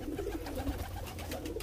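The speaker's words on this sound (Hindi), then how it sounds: "आपके सामने कबूतर दाना वगैरह खा रहे" Pigeons coo in low, throaty repeated calls while pecking at grain at a breeding loft, close and continuous over a dense background of shuffling and wing noise.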